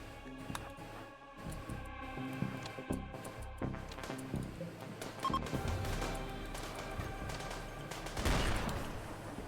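Scattered gunshots crack through a video game battle, irregular single shots and short bursts at moderate loudness over game effects, with a sharper blast near the end.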